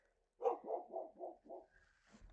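A dog barks from inside an enclosed space: five steady, evenly spaced barks at moderate distance, followed by quiet rustling.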